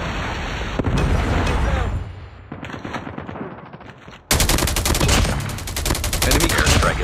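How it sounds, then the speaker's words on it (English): In the mobile game Call of Duty Mobile, a Predator missile strike lands amid rapid gunfire. Dense bursts of shots are followed by a loud blast and a sustained rattling barrage. No one speaks. "Predator missile inbound."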